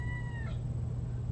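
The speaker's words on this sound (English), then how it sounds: "That's my cat." A house cat gives a single short meow, faint behind a steady low hum.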